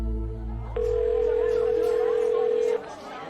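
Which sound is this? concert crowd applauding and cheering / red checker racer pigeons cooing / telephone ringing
telephone ringing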